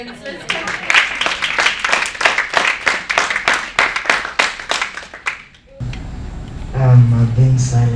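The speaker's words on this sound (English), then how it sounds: "We can go ahead and clap hands." A seminar audience claps hands in a brisk burst of many hands, loud and close for about five seconds, then stops abruptly as a voice begins talking.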